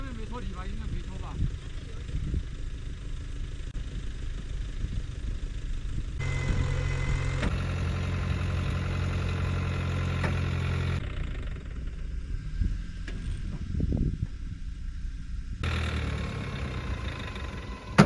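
A car stuck off-road in the Hoh Xil wilderness hums at idle, then its engine swells as the accelerator is pressed, a droning mid-pitched tone that drops back again. The engine runs low and steady between the revs.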